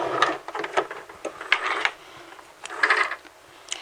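A sewing machine with twin needles back stitches in short bursts, its quick mechanical whirring and clicking starting and stopping several times up close.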